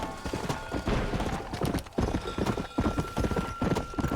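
Horse hooves clop steadily in Red Dead Redemption, a rhythmic run of close, fairly loud hoofbeats over a faint background tone, with no voices.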